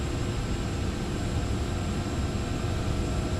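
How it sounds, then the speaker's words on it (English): Boeing 757 jet engines at takeoff power in X-Plane 11, a steady, dense roar filling the whole clip without letup and with no voices. "Takeoff power set."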